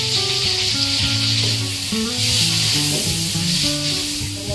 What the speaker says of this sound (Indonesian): mulai untuk menumis bawang bombaynya ya. Kemudian kita masukkan bawang putih.